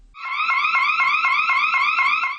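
A loud scream-activated electronic alarm siren in a women's restroom wailing in rapid repeating pulses, close and continuous, then cutting off abruptly.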